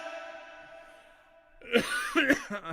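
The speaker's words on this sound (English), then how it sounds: "I'm bound to have a coughing attack here." A singer recording vocal harmonies at home breaks off a long sustained tone with a short burst of close, loud coughs.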